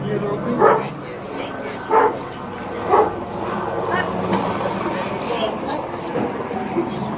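An LAPD K9 police dog barks three times, each bark sharp and loud and spaced more than a second apart, followed by a continuous noisy background with people talking.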